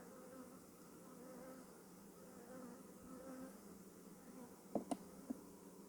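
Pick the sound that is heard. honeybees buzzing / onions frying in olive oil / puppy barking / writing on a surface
honeybees buzzing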